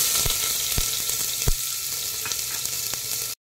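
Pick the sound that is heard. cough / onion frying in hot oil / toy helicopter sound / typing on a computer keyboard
onion frying in hot oil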